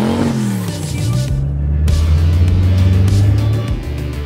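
A car rolls over a computer CPU laid on the ground, its engine rumbling and droning close by, rising briefly then holding steady for a few seconds with no voices.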